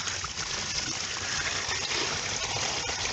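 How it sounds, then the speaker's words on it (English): Water gushes steadily out of a container of crawfish being rinsed for a boil, a continuous broadband rushing and splashing with no pauses, close and fairly loud. "You see that water pouring out."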